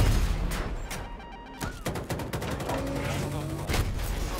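Gunfire in the video game Battlefield 2042, including railgun shots against a vehicle's front armor: loud, rapid bursts of shots and sharp cracks over a dense, noisy battle backdrop, with a brief tonal zip around the middle.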